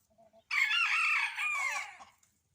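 A few soft clucks from backyard chickens come first, then a rooster lets out one loud, close crow that trails off into a second, lower phrase.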